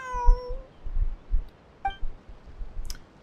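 A cat in Genshin Impact gives a clear meow at the start and a shorter one near two seconds, close and distinct over soft thumping clicks, with a brief chirp near the end.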